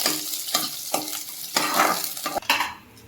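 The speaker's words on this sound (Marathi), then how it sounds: "लसूण बारीक कापून घेतलेला तोही टाकून द्यायचा आहे मिक्स करून घ्यायचं तेलामध्ये फ्राय होऊ द्यायचं" Chopped garlic frying in oil in a pan for a traditional Marathi colocasia-leaf curry, a steady close sizzle broken by several short scraping stirs, no voices.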